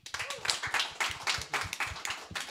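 Audience at a business conference applauding a speaker, a fairly faint, steady patter of many hands clapping, with a little voice in the background.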